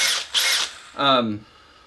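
Two short bursts from a power drill in a beginner woodworking setting, each a whirring buzz lasting about a quarter second, close and fairly loud, followed by a brief spoken phrase.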